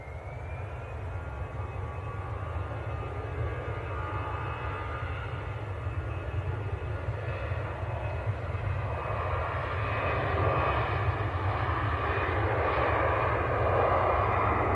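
EasyJet airliner on the runway at Manchester Airport, a steady distant jet engine roar that holds for the whole stretch and swells slightly toward the end, with no talk over it.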